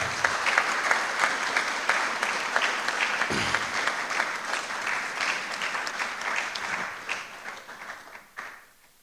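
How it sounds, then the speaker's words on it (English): Audience applause at a public forum on the cost of repair, honouring the chair: dense, steady clapping from a crowd that holds for most of the stretch and thins out toward the end. "our chair deserves a resounding round of applause"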